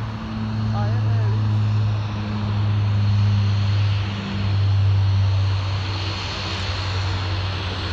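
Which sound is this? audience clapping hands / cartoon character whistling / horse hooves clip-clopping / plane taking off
plane taking off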